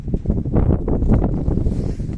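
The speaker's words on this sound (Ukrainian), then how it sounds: "Вітер не вщухає" Strong wind buffets the microphone in heavy, rumbling gusts, loud and close, with no other sounds standing out.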